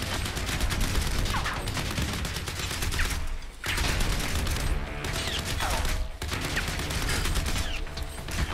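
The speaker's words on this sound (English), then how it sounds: "I was getting shot at as well" Dense, continuous gunfire from the video game Crysis 3 rattles in rapid overlapping bursts, broken by two brief lulls; loud and close with no talk.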